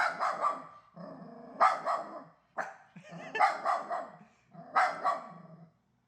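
A dog barks in four or five loud, close bursts spaced roughly a second apart, each a rough cluster of barks, with no other sound between them.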